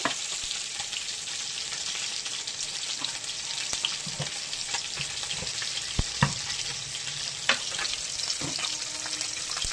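A dried red chili tempering in hot oil in a wok gives a continuous close sizzle with scattered sharp pops and crackles, and no voices.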